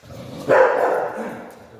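A mother dog gives a single loud, close bark that tails off into a brief whine.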